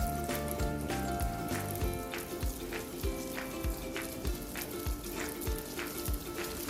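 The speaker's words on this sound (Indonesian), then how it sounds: "Kita goreng dengan api yang kecil ya." Pumpkin donuts fry over low heat in a small Teflon pan, with a close, steady sizzle broken by frequent sharp crackles and pops.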